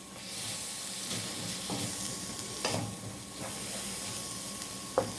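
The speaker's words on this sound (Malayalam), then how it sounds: "ഇതെല്ലാം കൂടി നന്നായിട്ടൊന്ന് മിക്സ് ചെയ്ത് കൊടുക്കാം" Chicken curry puff filling with a splash of vinegar is stirred in a hot pan. There is a steady hissing sizzle with steam, and occasional scraping sweeps and a knock of the spoon, close and fairly loud.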